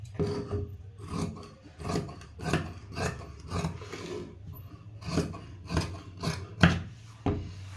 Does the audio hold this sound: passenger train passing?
no